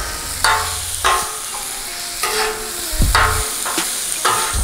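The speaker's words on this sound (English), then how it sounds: "this is a true stir fry right here, where you just frying it up" Pepper steak and vegetables stir-frying on a Blackstone griddle, with a steady sizzle broken by repeated scraping and tossing strokes from a spatula, loud and close, and no talking.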